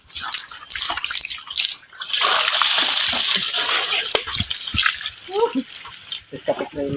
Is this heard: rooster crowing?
no